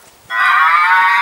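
A vintage electric milk float plays a cow moo sound effect: one loud, sustained bovine moo that starts abruptly after a short quiet moment and carries on steadily to the end, with no talking over it.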